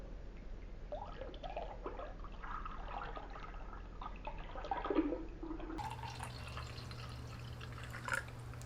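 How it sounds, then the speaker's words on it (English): Ghost Legend Lemon Lime pre-workout drink is poured slowly into a glass, a soft continuous trickle and splash at moderate volume before the sound cuts to a different room tone. "you got to do a slow motion pour for the guys at home"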